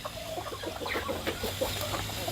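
Backyard village chickens in a home garden cluck while scratching for rice scraps under corrugated metal sheeting, giving a busy, close series of short, irregular clucks over a steady low background.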